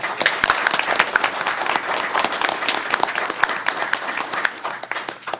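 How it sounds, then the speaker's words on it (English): Audience applause fills a county commission meeting room, a dense, steady burst of many hands clapping close by that tapers off at the end. "Let's give them a round of applause."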